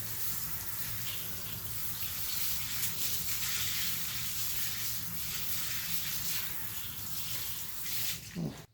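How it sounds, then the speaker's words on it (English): Water spraying steadily to rinse a removed tire and rim after cleaning, a loud continuous hiss that runs the whole time and breaks off briefly at the very end. "And just rinse."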